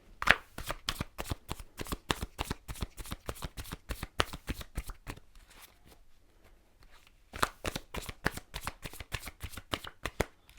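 Tarot cards are shuffled up close in quick, crisp riffling bursts, a rapid even patter that pauses briefly before resuming just as brisk.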